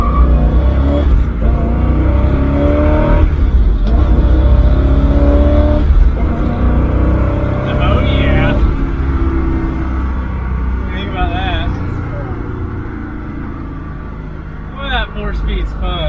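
A barn-find 1968 Ford Mustang GT pulls hard through the gears. The loud, close engine note rises and then drops at each shift before easing off toward the end, with talk under the engine at times.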